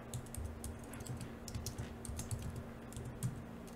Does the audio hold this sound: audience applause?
no